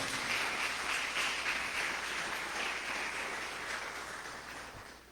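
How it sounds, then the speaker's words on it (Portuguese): A church congregation applauds during a Sunday service, a dense, steady patter of many hands that gradually fades, heard from within the hall without speech. "Pode aplaudir Jesus."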